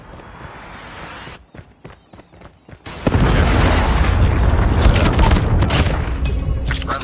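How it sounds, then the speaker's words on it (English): A predator missile strike in a first-person shooter video game, opening with sparse sharp hits, then a heavy explosion that bursts in loud and stays as a dense roaring, crackling rumble for several seconds. "Friendly predator missile inbound."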